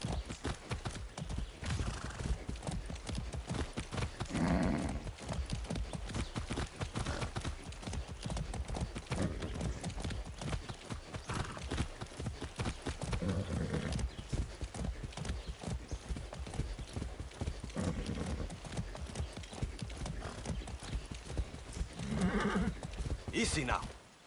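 Steady horse hooves clip-clop through the whole stretch in the video game Far Cry 6, with an occasional whinny and a voice speaking briefly over the rhythmic trotting.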